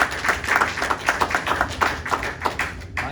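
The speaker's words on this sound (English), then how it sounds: "give yourself a round of applause for getting through FSTS" Graduates at a class graduation clapping in a brief round of applause, a dense close patter of many hands with no pause.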